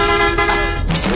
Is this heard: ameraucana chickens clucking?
no